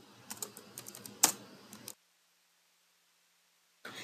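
Rapid clicks of typing on a computer keyboard, close and fairly quiet, one sharper keystroke standing out, then silence before a short final burst of keys.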